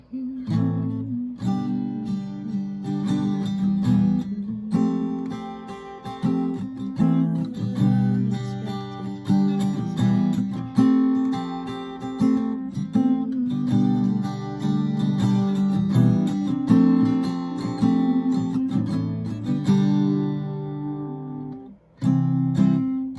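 An acoustic guitar strums a steady progression of chords in a rhythmic pattern for a long stretch, ending with a final ringing strum.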